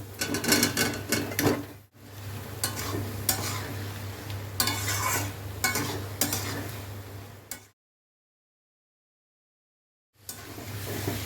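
Poppy seed paste with fried potatoes and capsicum is stirred in a hot pan, giving close, busy scraping and sizzling with sharp clatters, broken by a brief gap and then resuming.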